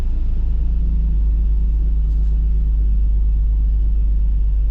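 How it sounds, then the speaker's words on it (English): A 33-year-old Holden Ute's Buick V6 idling, a loud, steady low rumble with an even throb close by, no voices over it. "Oh, that beautiful V6 Buick."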